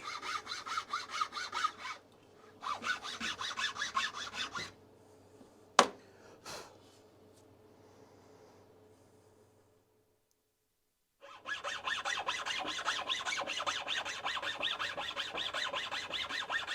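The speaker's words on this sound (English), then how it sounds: "now I'm going to create a little groove in here with a chainsaw file" Rhythmic rasping strokes of a chainsaw file cutting a groove around a wooden walking stick, a few bursts of back-and-forth filing separated by a sharp tap and a quiet pause.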